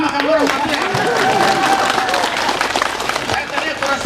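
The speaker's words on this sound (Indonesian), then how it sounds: "Makanya sekali lagi tepuk tangan lama-lama" An audience at a suspension bridge inauguration in Muna applauds at length, a dense, sustained clatter of many hands, with a voice and crowd noise mixed in.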